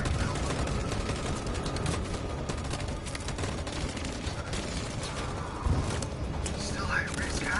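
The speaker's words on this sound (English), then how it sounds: "Can I get you guys to cover fire? Fire!" Video game gunfire in a steady, dense stream of rapid shots and bursts throughout, loud and continuous, with voices faintly present underneath.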